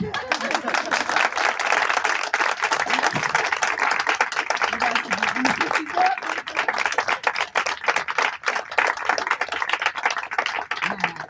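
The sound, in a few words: audience applause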